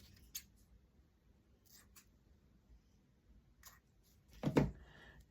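Scissors trimming a piece of paper, a few quiet, separate snips spread across a hushed room, ending with one sharper, fuller cut near the end.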